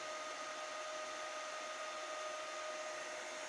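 Small cooling fan of a UIS 160 impact-driver unit running just after switch-on, a steady, even broadband whir with a faint tonal whine, constant and close with no talk.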